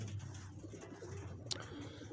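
Pigeons cooing softly in a loft, low repeated coos over a quiet background with one brief sharp click partway through.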